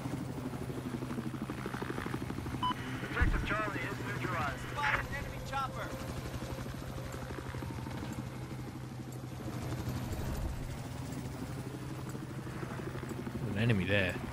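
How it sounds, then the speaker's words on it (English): Low, continuous thrum of an enemy helicopter in Battlefield 4 multiplayer, steady rotor drone throughout with occasional clatter of gunfire and effects, while people talk over it. "An enemy helicopter as well"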